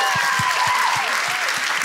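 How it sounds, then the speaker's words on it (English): An audience at an empowerment-themed speaker event claps steadily, a dense close wash of applause, while a voice talks over it throughout. "Round of applause."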